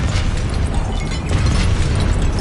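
Confringo explosion spell in a Hogwarts video game, a loud, dense fiery blast that roars continuously for a couple of seconds with heavy low rumble and crackling bursts.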